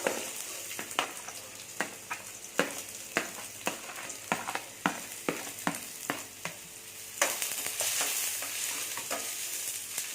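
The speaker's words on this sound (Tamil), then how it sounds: "ரெண்டு பெரிய வெங்காயம் பொடியாக கட் பண்ணி வச்சுருக்கேன் இதில் சேர்த்தேன்" Two large onions, finely chopped, fry in a little oil in a pan for egg podimas, a continuous sizzle punctuated by regular sharp spatula scrapes that grow into a louder, busier frying hiss toward the end.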